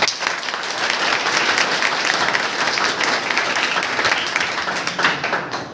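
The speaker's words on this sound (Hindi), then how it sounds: "तो मिलते हैं इनसे जोरदार तालियों के साथ" Loud, sustained applause from a room full of people at a school gathering of students selected for the Navy, an even wall of clapping throughout with no talk over it.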